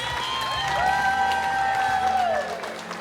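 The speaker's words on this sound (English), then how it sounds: "let's give them a warm round of applause." Wedding guests at a catering hall in Bristol, Pennsylvania clap and cheer for the couple, a steady crowd of applause with whoops and a long rising whistle-like cheer over it, fading near the end.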